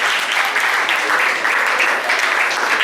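An audience at a university homecoming event gives a big round of applause, a loud, even wall of clapping from many hands that keeps going throughout.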